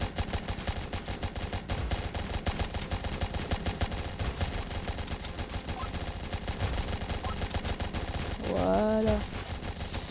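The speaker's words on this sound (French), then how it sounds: "le gros sniper, il va bien les foudroyer là, avec des grosses balles dans leur gueule" Steady rapid gunfire from a heavy sniper tower in a Roblox tower defense game, dense and continuous throughout over game effects, with a brief warbling tone near the end.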